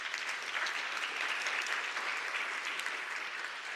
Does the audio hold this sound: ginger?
no